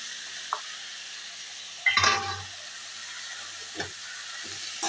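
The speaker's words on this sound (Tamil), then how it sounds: "கேரட்டு ஒரு கப்பு கேரட்டு போட்டேன் அது கூடவே பீன்ஸும் கட் பண்ணி வச்சுருக்க பீன்ஸும் போட்டேன்" Carrots and beans fry in a pan with onion and tomato, a soft continuous sizzle broken by a few sharp scraping strokes of a spoon stirring the vegetables.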